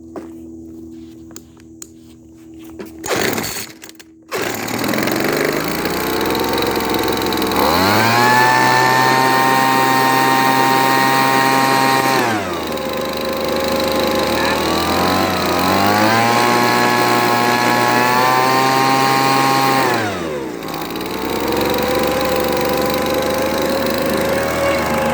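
A Weed Eater gas leaf blower with a freshly tuned carburetor starts after a few pulls, then runs loud and close, its two-stroke engine revving up and dropping back to idle twice.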